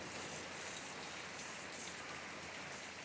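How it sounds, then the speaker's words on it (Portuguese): A downpour drums on the ground and surfaces near a hen coop, a thick, constant wash of close rain sound throughout, with nobody speaking. "Muita chuva mesmo."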